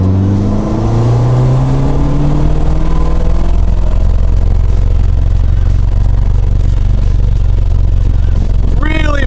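A Ford Fiesta ST with a hybrid turbo accelerates hard in third gear, the loud engine note climbing steadily in pitch from low rumble to high revs, heard from inside the car with heavy vibration and rattle.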